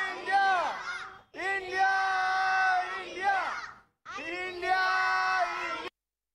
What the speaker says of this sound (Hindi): जो हैं लोग वो चिल्ला रहे हैं